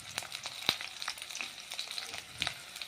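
Garlic added to hot oil in a pan, crackling and sizzling in a soft, steady stream of quick pops with a few sharper spits, fairly quiet and close.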